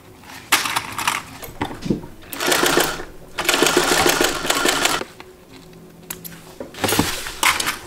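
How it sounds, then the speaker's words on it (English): Sewing machine running in three bursts of steady stitching through fabric, sewing along a marked line on a Vonni bag pattern, with quiet handling noise in the gaps between runs. "And then we're going to sew right on top of that line."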